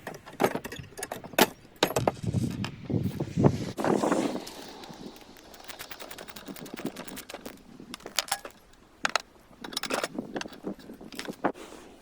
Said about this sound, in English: socket and wrench to remove the bolt and nut from each side of the broadfork